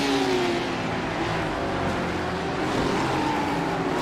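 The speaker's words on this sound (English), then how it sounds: "he let JP Sue in the red Ferrari trying to find a way through the middle of all these BMWs" GT3 race cars, including a pack of BMWs, in a sim racing video game, engines droning steadily at high revs as several cars run close together, with no talk over the engine noise.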